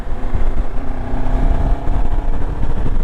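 A Kawasaki KLE 500 SE motorcycle accelerates, its engine note loud and close with a rough, pulsing drone that swells and rises in pitch, heard alone without talk.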